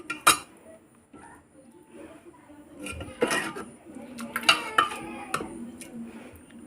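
Egg biryani mixture being stirred in a pressure-cooker pot, giving scattered scrapes and clinks of a utensil against metal at close range. The taps are irregular and moderately loud.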